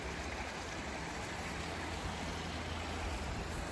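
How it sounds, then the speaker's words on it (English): Steady, loud roar of highway traffic close by, a continuous broadband wash of passing vehicles with a low rumble underneath, heard outdoors beside floodwater with no talking. "The highway's right there, so it's kind of loud. But other than the traffic noise"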